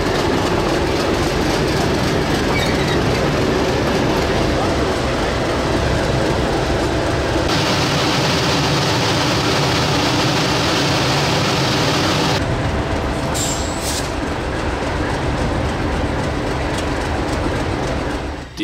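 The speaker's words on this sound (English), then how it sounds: "DG772 power along with a ballast train in tow." Diesel locomotives DI1102 and DG772 haul a ballast train at Ferrymead Railway, a steady loud engine rumble and rolling wagon noise running throughout, briefly thinning in the middle before swelling again, with a faint high squeal near the end.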